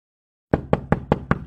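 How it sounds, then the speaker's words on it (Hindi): Five sharp knocks on a door in an animated cartoon, evenly spaced and close, heard alone after a moment of silence. "2 दिन के बाद कोई दरवाजा खटखटाता है।"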